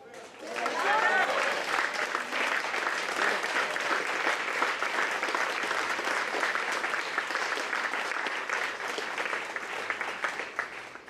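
Sustained applause from a large audience, steady and dense clapping that starts abruptly and continues at full strength throughout.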